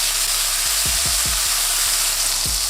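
Meat sears in a hot frying pan after being flipped, a loud, dense sizzle with a few dull thumps and scrapes of the pan underneath, no talking.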